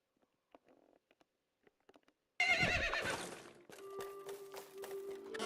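A horse in the Medieval Dynasty video game lets out a loud, sudden whinny after a few faint clicks, its shrill neigh trailing into snorting and a rising tone near the end.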